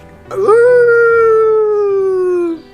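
A man imitates a dog howling, giving one long, loud, close howl that rises quickly, holds steady and slowly sags in pitch before cutting off after about two seconds.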